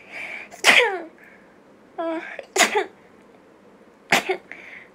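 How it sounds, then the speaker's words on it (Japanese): Three sharp, loud sneezes from a woman during a live stream, spaced about two seconds apart, each a quick inhale followed by an explosive burst, with quiet room tone between. "くしゃみ出そう。"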